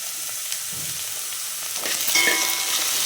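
Vegetables and chopped coriander stems fry over a high flame in a pan for semiya upma, making a continuous close sizzle and crackle that swells slightly toward the end, with no one speaking.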